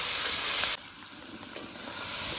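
Ground spice paste with turmeric powder fries in a pan, giving a loud, steady sizzling hiss broken by a few scraping stirs, with no talking.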